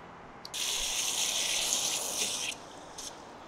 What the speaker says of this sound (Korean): 지금 물 담고 있고요.